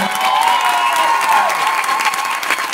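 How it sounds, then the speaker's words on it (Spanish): An audience at a theatre company's event breaks into dense, sustained applause with a few cheers mixed in, loud and steady throughout with no talk over it. "mi señora esposa Zaita El Santini, un aplauso por favor."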